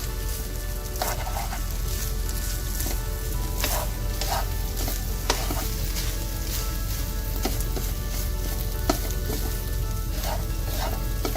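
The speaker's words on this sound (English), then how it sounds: "you're going to slowly mix the rest of the rice in" Rice being stir-fried into scrambled egg for shrimp and broccoli fried rice, with a continuous close sizzle and intermittent clicks and scrapes of a utensil stirring through the pan.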